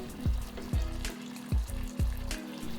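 Papaya leaf stir-fry seasoning of salt, sugar, flavoring, shrimp-paste chili sauce and a little water being stirred in a pan, with steady sizzling and repeated scraping stir strokes, close and alone.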